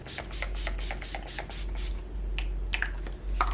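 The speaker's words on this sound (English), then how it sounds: "I'm gonna spray my face" A rapid series of short spritzing puffs from a face spray being sprayed onto a face, followed by a few softer scattered hisses, close and quiet.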